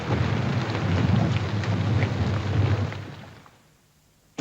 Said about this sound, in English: It continues to rain.